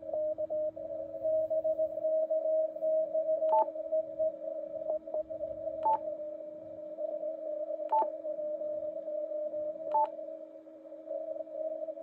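CW Morse signals received on a Yaesu FT-710 ham radio with digital noise reduction switched on, a steady high tone running through the whole stretch, with a few brief higher beeps recurring at intervals over faint hiss.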